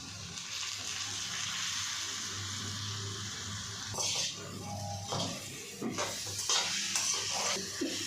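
Potato and fenugreek leaf fry is stirred in a pan, with a soft steady sizzle, then several scraping and clanking strokes of a utensil against the pan, close and fairly quiet.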